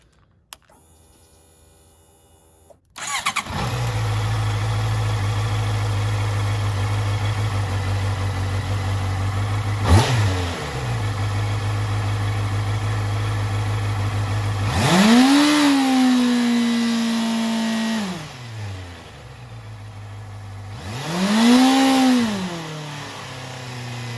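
A motorcycle engine starts and idles steadily with the throttle lock engaged, a close, even hum broken by two throttle blips that rise and fall, without speech.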